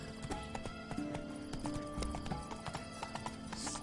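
Roach, Geralt's horse in The Witcher 3, trots along with a steady clip-clop of hooves, the footfalls close and continuous over a faint game backdrop.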